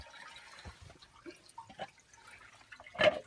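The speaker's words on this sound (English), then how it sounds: "you let some water out and it purges and fills up this chamber" A swimming pool pump chamber is purged and refilled: scattered drips and trickles of water, then a brief louder splash of water rushing in near the end.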